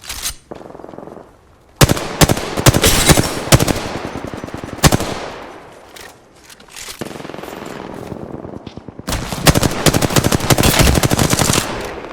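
Bursts of rapid automatic gunfire from the Apex Legends video game, loud and close, in several long strings broken by short pauses and a lone heavy shot, with no voices.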